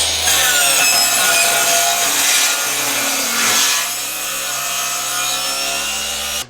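Handsaw cutting through a hollow core interior door, a loud, continuous rasping stroke of teeth through thin wood veneer that runs steadily, eases briefly near the end and then stops, with no voices over it.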